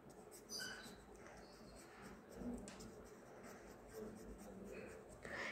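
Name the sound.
writing on paper while labeling an animal cell diagram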